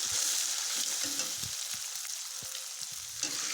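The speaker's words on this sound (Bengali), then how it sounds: "চাউমিনে ভালো মতন ভাজা ভাজা করে নিচ্ছি" Chow mein with egg and ground spices fries in a pan with a soft, steady sizzle, broken by scattered clicks and scrapes of a spatula stirring the noodles.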